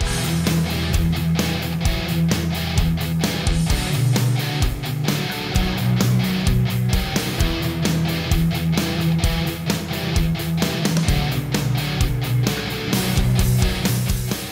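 A repeating bass guitar riff plays over a full band mix with steady drums, the low notes moving in a looping pattern throughout.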